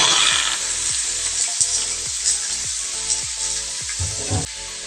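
Chicken sizzling in oil in a pan for Filipino tinola, a loud steady frying hiss with repeated rhythmic scraping strokes from stirring throughout.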